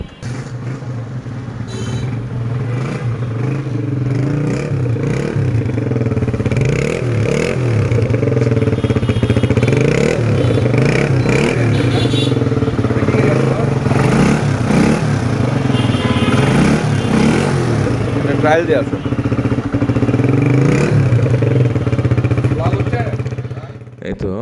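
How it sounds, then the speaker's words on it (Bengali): A modified Honda CG125 motorcycle, Pakistani version rebuilt in retro classic style, runs steadily at idle with a throbbing, even engine note that stays loud throughout, while people talk over it. "এখন আমরা বাইকের সাউন্ডটা একটু শুনবো"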